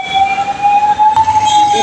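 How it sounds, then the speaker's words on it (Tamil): An ambulance siren wails in Mumbai traffic as a steady, loud, held tone with a brief louder burst midway, over a bed of road noise. "நாங்கள் முடிஞ்சிட்டோம், ஆம்புலன்ஸ் பின்னாடி இருக்குது"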